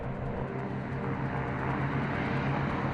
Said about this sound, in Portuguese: os B-29s decolam com bombas falsas chamadas de abóboras para serem lançadas no deserto